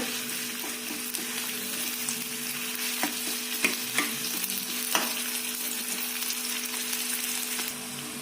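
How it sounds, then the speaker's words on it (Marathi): Sliced onion frying in about four spoons of hot oil, being stirred toward golden brown: a steady close sizzle with occasional scraping stir clicks, no talking. "कांद्याला आपण सोनेरी रंगापर्यंत तळून घेऊ"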